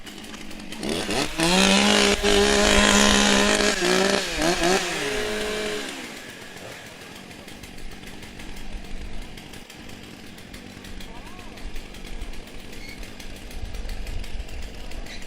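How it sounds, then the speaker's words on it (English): Stock chainsaws revving at a timbersports championship, several loud, close engines whining and surging for the first seconds, then dropping to a rough idle with outdoor noise. "Warm up your saws."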